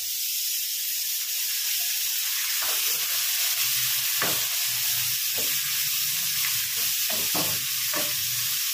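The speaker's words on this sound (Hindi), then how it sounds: "हम प्याज को हमने थोड़ा सा फ्राई कर लिया। अब हम इसमें शामिल करेंगे 2 कटे हुए टमाटर" Steady close sizzling and hissing of onions and tomatoes frying in a pan, with occasional stirring scrapes and soft clunks; no talking.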